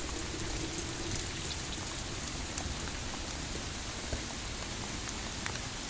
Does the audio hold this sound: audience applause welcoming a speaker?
no